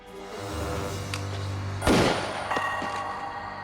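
A single sharp gunshot rings out in a crime reenactment, a sudden loud crack that rises over a low ambient rumble before fading into a brief echoing tail.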